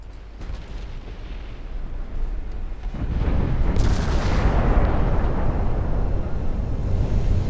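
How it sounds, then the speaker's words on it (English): A torpedo hit in the naval warfare game Ultimate Admiral Dreadnoughts, heard as a low rumble that swells into a big, sustained blast roar partway through and keeps going to the end. No one talks over it. "Got a torpedo hit on something."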